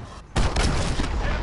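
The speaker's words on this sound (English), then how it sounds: "Enemy cruise missile incoming," Cruise missile strike in Modern Warfare 2019 played in PSVR, a sudden loud explosive blast that swells into sustained heavy rumbling and crackling debris, close and filling the space.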